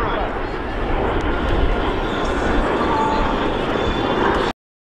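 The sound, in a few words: restored L-39 and T-33 jets flying past in formation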